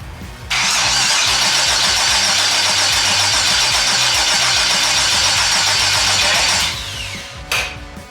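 A twin-turbo LS V8 swapped into a New Edge Mustang cranks over on its first start attempt, a loud, close, continuous starter churn lasting about six seconds before cutting off, followed by a short extra burst.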